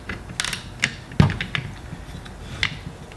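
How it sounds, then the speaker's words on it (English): An IA-SC9 suppressor being tightened with a 3/8 wrench, giving a few close metallic clicks, scrapes and one sharper clack over a quiet background. "we're going to use a 3/8 wrench to finish the task."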